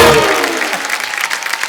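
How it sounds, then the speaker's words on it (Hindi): A comedy show audience breaks into loud, close applause, dense clapping that carries on steadily for a couple of seconds. "जोरदार तालियां"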